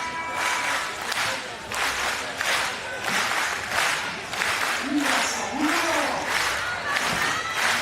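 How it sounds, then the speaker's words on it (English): Crowd at the FIBA 3x3 basketball World Cup finals in Amsterdam, China against Australia, cheering and chanting in steady rhythmic surges, loud and continuous, with a commentator's voice briefly heard over it. "Crowd getting into it."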